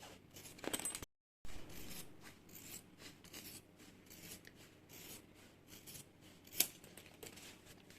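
Scissors snip and rasp through excess material and zipper ends along the stitching of a handbag, close-up, in a run of short crisp cuts separated by a brief gap of silence.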